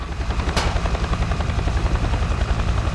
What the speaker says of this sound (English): Hey, who's in the chopper?